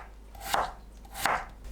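A knife cuts through potato on a cutting board, slicing it into half-moon pieces 0.5 cm thick; two distinct chops land about a second apart, close and fairly soft, with no one talking.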